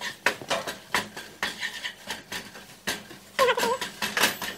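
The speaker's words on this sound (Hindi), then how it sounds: "इसको हिलाते रहना है, रुकना नहीं है, क्योंकि आटा और बेसन जब आप भूनते हो तो बहुत जल्दी नीचे लगता है" A spoon scrapes and clinks in a pan, stirring roasting flour and besan in ghee for ladoos, a rapid irregular series of close scraping strokes, no voices.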